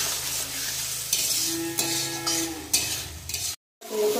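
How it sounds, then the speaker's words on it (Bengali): Spices sauté in hot oil in a wok for a kohlrabi fish curry, with a continuous close sizzle and repeated scraping stir strokes, followed by a brief silent gap, and no talking. "দেখুন এখন বেশ কিছুক্ষণ আমি মশলাটা কষে নেব, যতক্ষণ তেল না আটাচ্ছে।"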